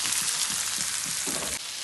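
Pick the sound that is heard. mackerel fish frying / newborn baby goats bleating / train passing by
mackerel fish frying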